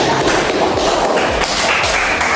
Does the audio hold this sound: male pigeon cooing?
no